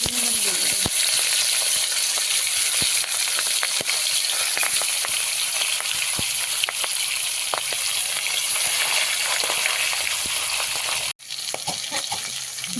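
Fish, rubbed with salt and turmeric, frying in hot oil in a wok over a stove. A loud, constant sizzle with crackling pops runs for the whole stretch and cuts out briefly near the end.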